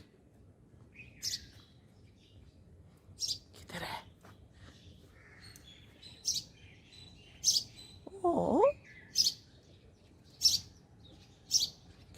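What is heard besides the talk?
sparrows chirping in a tree in the morning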